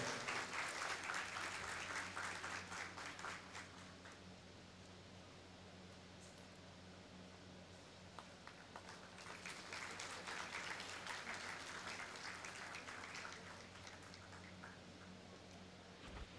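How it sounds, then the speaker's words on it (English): Faint, distant audience applause at a government medical college convocation, a soft, steady patter of many hands that swells at the start and again midway, over a low hum from the hall. "Please give it a big round of applause."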